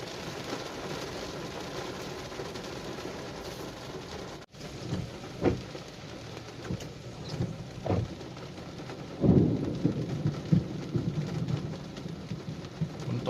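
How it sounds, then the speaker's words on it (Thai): Steady rain pours throughout in Bangkok near Mo Chit, a dense broadband wash, with a few soft thumps and brief louder splashes toward the end. "อยู่บางนี้ฝนก็ตกคือกันครับ"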